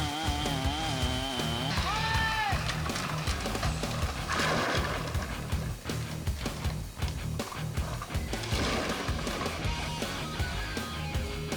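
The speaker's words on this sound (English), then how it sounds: "Some trees were dropped into the stream using a chainsaw." A chainsaw drones and revs loudly while felling trees beside a creek, its engine pitch rising and falling as it cuts, continuous throughout.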